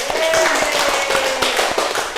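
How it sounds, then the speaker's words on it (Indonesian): Scattered claps ring out in a busy classroom for about two seconds, a modest round of applause mixed with background voices. "Iya, tepuk tangan buat Ica."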